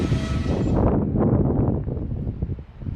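A train rolls to a stop just past a switch on the Southern Palmetto Subdivision, a close rumbling clatter of wheels and cars that fades and settles as it slows over three seconds.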